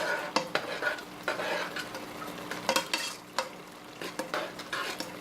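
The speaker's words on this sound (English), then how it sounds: "We actually got some sizzling going on here." Soft sizzling of rice in a pan with repeated scraping and stirring clicks from a utensil, close by and fairly quiet.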